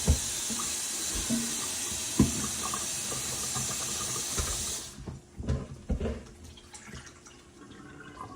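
Tap water running steadily into a sink being filled to rinse grapes, a loud continuous rush that stops about halfway, followed by scattered splashes, drips and handling sounds.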